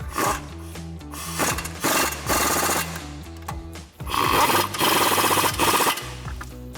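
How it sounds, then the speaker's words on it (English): A 17mm swivel socket on a ratchet or impact tool tightens the caliper bracket bolts of a Toyota 4Runner brake job in loud, buzzing rattling bursts separated by short pauses. "Now grab your 17mm swivel socket and tighten down your 2 caliper bracket bolts."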